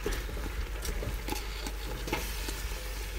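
Couscous stirred in a pot, heard as a steady soft scraping and rustling with light clicks, close and fairly quiet, with no voices.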